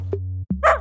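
A dog in a children's English learning game gives a single short, clear bark over a steady low electronic tone, followed by a brief yip.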